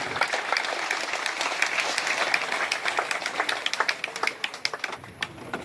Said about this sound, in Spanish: Un fuerte aplauso para nosotros y los invitados.